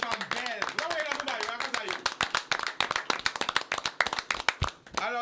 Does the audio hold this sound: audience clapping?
yes